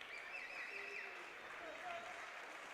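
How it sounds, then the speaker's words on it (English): Steady crowd applause fills a gym at a boys' SoDak 16 basketball playoff game as the Lynx starters leave the floor, a sustained even wash of clapping under a commentator's voice. "the Lynx starting five will come out of the game now to a good round of applause"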